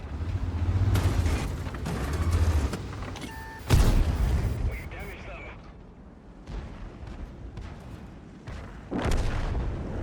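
In World of Tanks, a tank cannon fires and hits an AT8. It gives a sharp booming shot amid rumbling game engine noise, with a further thud later and someone talking throughout.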